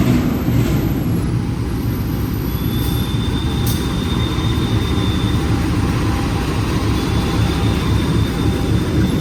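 The Brantas passenger train arrives at platform 3 of a station, rumbling steadily nearby with a deep, continuous roar and faint high squeals of wheels on rails.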